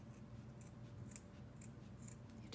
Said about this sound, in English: Cut through that hot glue